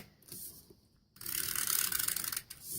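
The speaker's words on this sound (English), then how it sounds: "adding your snail adhesive all the way around the outside" Snail adhesive tape runner rolling glue strips around the edge of a handmade Stampin' Up! card, a close, steady ratcheting whir lasting over a second after a short quieter pass.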